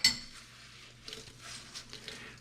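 Silverware clinks into a basin of rinse water while a few dishes are washed, starting with a sharp clatter and then softer metallic clinks and gentle sloshing close by.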